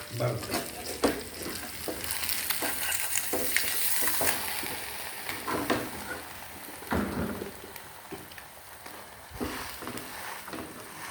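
Food fries in a pan for a khubus burger, a continuous crackling sizzle punctuated by repeated stirring clicks and scrapes, with a voice briefly heard.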